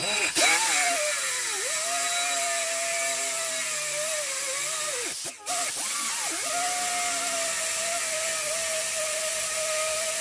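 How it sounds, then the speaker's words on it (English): A steady, loud power-tool whine runs almost continuously, dipping briefly in pitch twice as the blade bites into a Subaru wheel stud, with a short break midway. "So we're going to go ahead and cut this stud right off."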